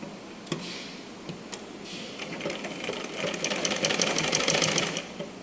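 A pedal-powered sewing machine stitches panties, its needle clattering in a steady rapid ticking that speeds up and grows louder toward the end, with a few soft handling taps before it.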